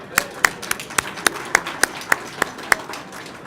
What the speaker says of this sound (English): So I want to give it the round of applause to that.